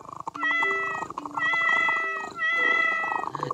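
A cat meows repeatedly in the video game While True: Learn(), three long, drawn-out, tonal cries in a row, loud and close, with no other sound.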